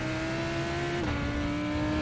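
A race car engine drones loudly and steadily at high revs during practice for a 12-hour race at Silverstone, its pitch dipping slightly midway as it passes close by.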